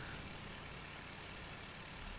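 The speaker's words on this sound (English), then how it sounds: "engine noise the entire time." A vehicle engine in the building-and-driving game TerraTech drones on as a continuous, even, low mechanical hum at fairly low volume with no voices.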